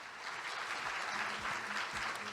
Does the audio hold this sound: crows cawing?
no